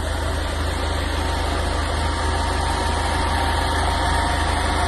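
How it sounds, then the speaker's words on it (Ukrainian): The mixer on a herbicide sprayer for winter wheat runs with a steady, low mechanical drone and hum, constant and close, with no break or change through the whole stretch. "Включаємо мішалку, змішаємо усе"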